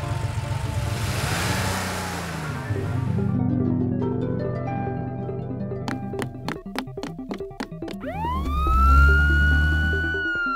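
A police car siren wails and rises in pitch among other layered vehicle sounds, loud and close, ending with a sweeping electronic tone.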